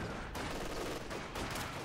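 Machine gun fire in the Call of Juarez: Gunslinger video game, a dense, loud burst of rapid overlapping shots filling the whole short stretch.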